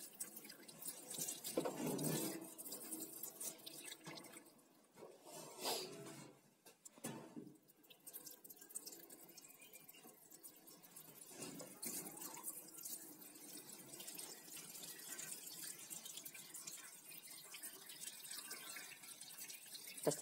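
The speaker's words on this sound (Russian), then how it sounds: "Вот, я включил сейчас воду." Cold water running from a tap through a hose into a wax melter, a soft steady trickle and splash, quiet and close, with a few louder bursts early on.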